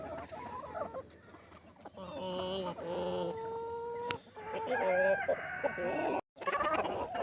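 Backyard chickens cluck and squawk excitedly close by, a busy overlapping chorus of rising calls and crow-like cries that swells louder toward the end, with no talking.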